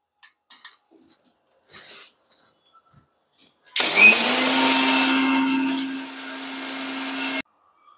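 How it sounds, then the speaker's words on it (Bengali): Crispy fried rice grains being ground in an electric grinder: after a few quiet seconds with faint clatter, the motor kicks in loud and close, whirring steadily for about four seconds before stopping abruptly. "যে সাধারণ ভাতের চাল একদম কুড়মুড়ে করে ভেজে নিয়েছি, এটা আমি একটুখানি আধা গুঁড়া করব।"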